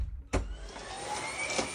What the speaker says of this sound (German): Und noch Staubsaugen.